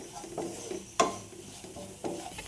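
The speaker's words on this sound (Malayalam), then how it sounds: "പൊടികളുടെ പച്ചമണം മാറുന്നിടം വരെ ഒന്ന് ഇളക്കി കൊടുക്കാം" Spice powders, including chilli powder and garam masala, stirred in a cooking pan for palak paneer, with faint sizzling and a few distinct scrapes and clinks of the spoon against the pan.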